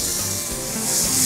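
Garlic sizzling in olive oil in a frying pan, a steady bright hiss that swells slightly toward the end, close and alone without speech.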